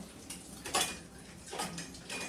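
Dishes and pots clinking and clattering in a home kitchen, a few light metallic knocks and scrapes spaced out over quiet background, fairly soft and close.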